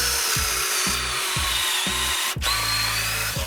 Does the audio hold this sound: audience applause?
no